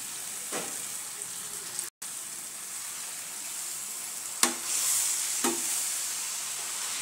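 Chopped hadga flowers sauté in oil with cooked spices under a steady, soft sizzle, with a few scattered knocks from a stirring spoon and one brief dropout.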